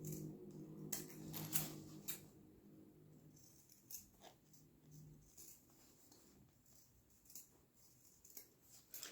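Scissors trim the four corners of fabric for a sewn organizer pouch, giving faint, scattered snips with a few quick crisp cuts between quieter rustling in a still room.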